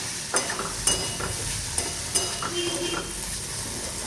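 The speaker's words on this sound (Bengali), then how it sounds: "এটা কুমড়ো আলু ভাজাটা" Pumpkin and potato pieces fry and sizzle in a pan, a steady close hiss broken by several sharp stirring scrapes and clinks of a utensil, with no voices.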